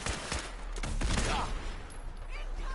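Gunners enemies open fire in the Fallout 4 video game, a rapid, fairly quiet burst of overlapping gunshots, somewhat distant and continuing through the moment.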